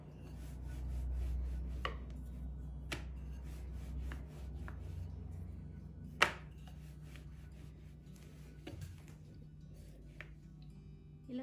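Wheat parotta dough being pressed and rolled thin on a surface, soft rubbing with occasional sharp taps and knocks, close and quiet, with no talking.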